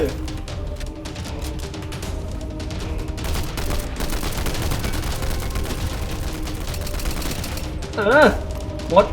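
Rapid bursts of gunfire in the Fortnite video game crackle continuously at mid distance, dense and overlapping, with a closer louder shot near the end and brief game effects, while a player talks over it.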